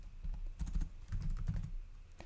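Quiet, close keystrokes on a computer keyboard, a quick run of soft clicks in two short bursts with a final tap, all alone.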